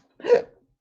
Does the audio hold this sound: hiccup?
yes